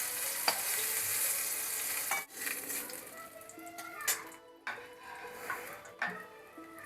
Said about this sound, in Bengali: এইভাবে লাল লাল করেই ভাজতে হবে।